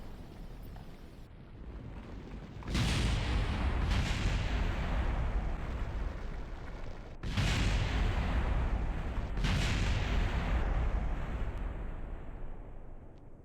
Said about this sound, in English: Everything exploded.